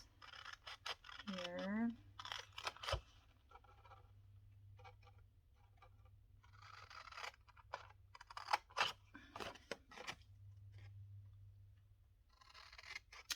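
Scissors snip through paper and tags while a mini journal is being trimmed, with brief scraping cuts scattered between quiet stretches and someone speaking now and then over a low background hum.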